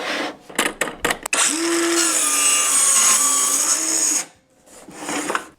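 A Dremel portable saw makes a 30-degree miter cut, screaming loudly at close range in one sustained burst of about three seconds, with short handling clicks and knocks before and after.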